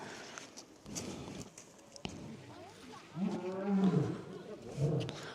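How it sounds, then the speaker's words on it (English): A lion at a zoo gives low, rumbling roars that swell in the second half, with scattered knocks and crowd background earlier. "the lion is roaring now"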